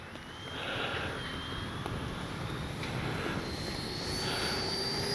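A Freewing 90mm F-4 Phantom II RC jet with an electric ducted fan rolls out for takeoff, a steady broadband roar with a faint rising whine that swells slightly and holds at a fairly constant level, heard from a moderate distance.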